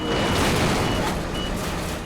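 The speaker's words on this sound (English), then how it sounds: "I'm hearing the alarms" Reversing alarm of a heavy rescue truck lifting a tractor trailer from a river on Highway 99 in BC, beeping amid loud, dense engine and machinery rumble for two seconds.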